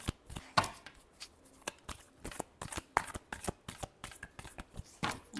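Tarot cards being shuffled by hand, a rapid run of crisp riffling bursts and soft slaps in an uneven rhythm, close and clear with no talking.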